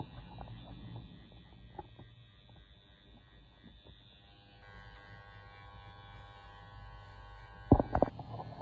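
Hair clippers blend a mid fade on a low cut with a faint, steady electric buzz. The hum stays quiet throughout, and a brief louder rattle comes near the end.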